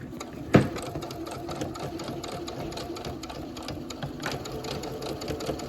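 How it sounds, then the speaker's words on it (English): A sewing machine runs a straight stitch with backstitching on a fabric face mask, a steady close mechanical whir that continues throughout, with one brief thump near the start. "I'm going to do a nice straight stitch. Remember to back stitch here because you want that nice and tight."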